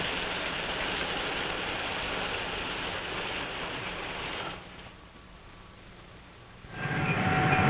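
Passenger train cars roll through an automatic washing machine, giving a loud, steady rush of spraying and scrubbing noise. The noise drops away for a couple of seconds, then surges back, with no voices.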